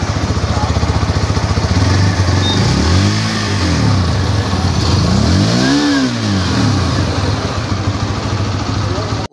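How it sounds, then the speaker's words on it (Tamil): A Hero Xtreme 160R 4V motorcycle revs through its exhaust, with two distinct rising and falling throttle blips over a steady close idle, loud and alone. "இப்போ இந்த வண்டியோடைய எக்ஸாஸ்ட் நோட்டை வந்து கேட்டுடலாம்."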